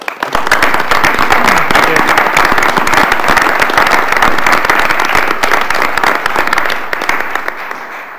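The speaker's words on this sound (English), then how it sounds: "a round of applause" Audience at a university board of regents meeting giving sustained applause, dense steady clapping throughout that tapers off in the final second.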